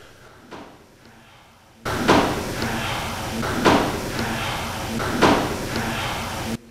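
Knocking in a haunted house with US Civil War era hauntings: a few sharp, loud raps spaced about a second and a half apart over a steady background hiss.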